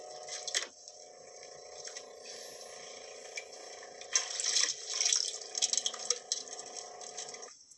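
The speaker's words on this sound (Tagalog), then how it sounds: "Dinig na dinig ang mga tampisaw ng tubig." Water splashes and laps against a small fishing boat on a calm sea, with soft irregular splashing over a steady low hum; splashes grow louder and busier toward the end.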